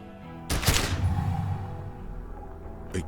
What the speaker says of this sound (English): A plume of smoke and fire erupts from the gun, and your hand goes numb from the explosion.